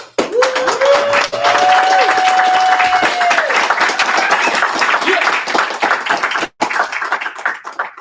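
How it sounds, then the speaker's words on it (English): Dense audience applause at an evening community event, loud and sustained with crowd clapping throughout and a brief drop near the end. "We'll start with applause."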